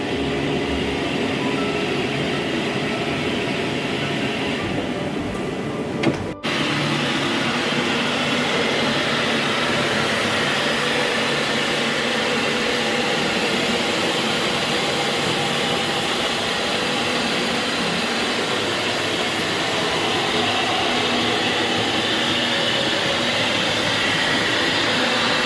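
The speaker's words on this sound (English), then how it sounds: "So the full pressure now of the relevant setting is on the machine for the brushes, and the vacuum will be drying behind us." A used Tennant T7 ride-on industrial battery scrubber dryer runs with brushes under full pressure and the vacuum drying, giving a loud, steady broadband whir and hiss that continues unbroken, with one brief dip partway through.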